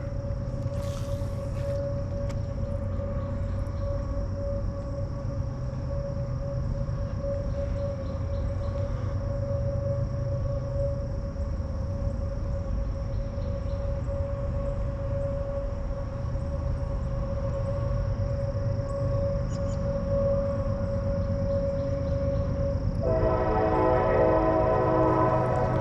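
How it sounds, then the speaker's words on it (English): A distant train horn, about half a mile away, sounds as a long, steady howling tone over constant low background rumble, swelling slightly louder near the end. "That train sounds funny to me. Got a howling noise to it."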